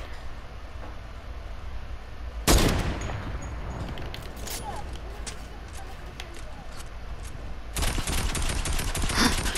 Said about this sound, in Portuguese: Só consigo ver os tiros.